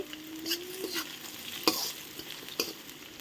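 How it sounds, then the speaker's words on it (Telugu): Capsicum and onion cubes fry in oil for baby corn manchurian, giving a soft steady sizzle with scraping spoon strokes and a few sharper clinks against the pan, close by and with no talking. "ఆనియన్స్ని అయితే క్యూబ్స్ కింద కట్ చేసుకుని వీటిని కూడా యాడ్ చేసుకుని అయితే ఫ్రై చేసుకోండి"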